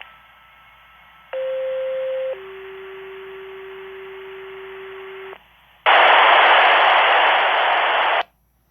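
A fire department pager playing back a dispatch alert: a short steady tone, then a longer lower tone, a brief pause, and a loud harsh burst of static-like noise, all electronic and close.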